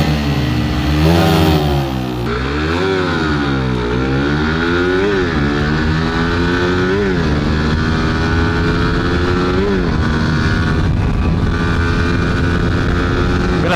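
Old-model Honda Raider Fi motorcycle in stock setting, its engine revving loud and close, pitch rising and falling in repeated sweeps over a steady roar with wind buffeting and no talking.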